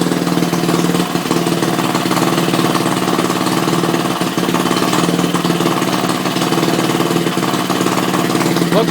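A rebuilt Briggs and Stratton 2HP small engine runs steadily and loudly at close range, a constant rattling drone with a slight rhythmic knock throughout and no pauses.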